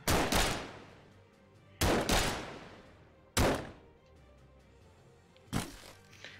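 Pistol shots from the VR game Dungeon Knight: four sharp, loud single reports spaced over a few seconds, each with a short decaying tail, with no talking.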